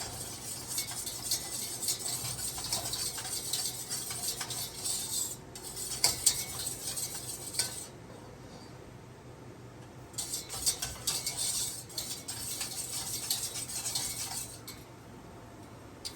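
A spoon stirs a strawberry and cornstarch mixture in a pot on the stove, a quiet, continuous scraping and clinking that runs throughout with a couple of brief pauses.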